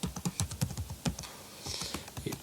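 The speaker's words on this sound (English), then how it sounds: "then you have to type the name of a package" Quick, uneven keystrokes on a computer keyboard while a Java package name is entered, a close run of crisp clicks with a brief pause midway and no voice.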